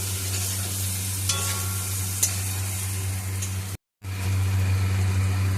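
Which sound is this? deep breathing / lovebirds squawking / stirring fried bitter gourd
stirring fried bitter gourd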